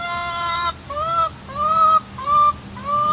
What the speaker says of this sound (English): The chickens always hang around when I make a video.